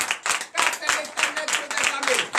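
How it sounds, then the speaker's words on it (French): Congregation clapping rhythmically during acclamation at a Sunday church service in Comè, Benin, loud and close, with steady repeated beats and voices mixed in. "Frères et sœurs en Christ, donnez de vive acclamation à l'Éternel"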